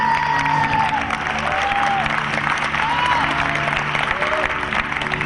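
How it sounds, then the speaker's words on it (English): An audience gives a big round of applause, a dense steady clapping with cheers and whistles that lasts the whole stretch at full strength. "Let's give them all a big round of applause,"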